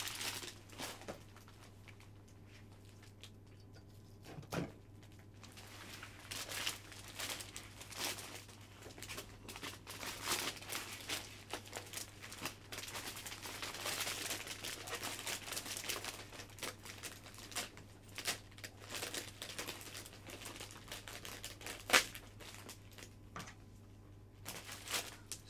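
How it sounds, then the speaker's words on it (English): Cellophane wrapped around a pink rose hand-tied bouquet crinkles softly and continuously as it is pulled taut, with scattered crackles over a faint steady hum. "Gently pulling the cellophane to become nice and taut around the"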